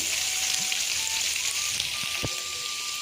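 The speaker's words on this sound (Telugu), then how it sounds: "ఇంకా నేను సన్నగా కట్ చేసి పెట్టుకున్నాను కదా ఉల్లిపాయలు అలాగే పచ్చిమిర్చి కూడా యాడ్ చేసేస్తున్నాను." Finely chopped onions and green chillies frying in tempering oil for fenugreek rice, a steady, close hiss and crackle of sizzling oil that holds even throughout with faint clinks, and no voices.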